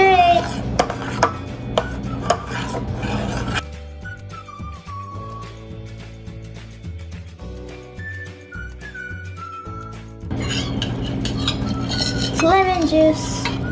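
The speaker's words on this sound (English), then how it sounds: "Stir it." A spoon clinks and scrapes against a bowl while stirring paneer jamun mixture with lemon juice, loud and close at the start and end, with a melodic musical passage in between.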